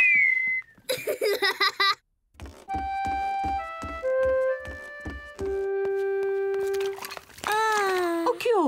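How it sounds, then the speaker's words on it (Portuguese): A cartoon piglet whistles a series of clear, steady tones, a short melody of held notes at different pitches, followed by a rising and falling sliding whistle, with a brief babbling laugh near the start. "George consegue assobiar."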